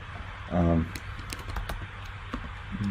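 Typing on a computer keyboard during smart-contract programming: a short run of key clicks, with a brief louder burst early and scattered taps after, under quiet background talk.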